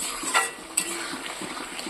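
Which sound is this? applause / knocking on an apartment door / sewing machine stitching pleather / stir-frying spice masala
stir-frying spice masala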